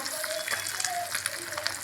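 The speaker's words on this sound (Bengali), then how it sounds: "এখানে মাছ ভাজা হচ্ছে" Fish frying in a pan in a home kitchen gives a steady, close hiss of sizzling oil throughout, with small crackles scattered across the dense sizzle.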